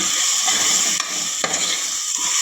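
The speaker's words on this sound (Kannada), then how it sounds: "ಹಸಿ ವಾಸನೆ ಹೋಗೋವರೆಗೂ ಇದನ್ನು ಫ್ರೈ ಮಾಡಬೇಕು ಇವಾಗ ಕೊತ್ತಂಬರಿನ ಸ್ವಲ್ಪ ಆ್ಯಡ್ ಮಾಡ್ತೀನಿ ಮತ್ತು ಸ್ವಲ್ಪ ಫ್ರೈ ಮಾಡೋಣ" Ginger garlic paste frying with coriander in a pan produces a loud, continuous close sizzle, broken by a few brief scrapes of a spatula stirring.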